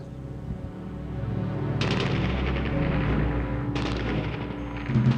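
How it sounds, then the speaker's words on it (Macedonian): Bursts of automatic gunfire in a wartime conflict form a dense, continuous rattling barrage, loud and sustained, with sharper volleys breaking in around the second and fourth seconds and no voices. "Рафални истрели го пробиваа просторот."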